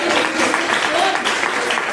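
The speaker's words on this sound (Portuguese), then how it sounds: "Aplauda Jesus, meu Deus." A church congregation claps in praise, a sustained burst of many hands applauding together with murmuring voices and cheers blended into the crowd sound.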